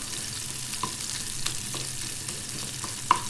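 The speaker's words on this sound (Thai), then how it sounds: "พี่อ้อยจะมาทำผัดพริก นะคะผัดพริก สตอนะคะผัดแกงสตอใส่ไก่เจเนาะ" Stink beans and vegan chicken stir-fried in a small pan give a quiet, steady sizzle with occasional light scrapes and clicks of stirring, no voices.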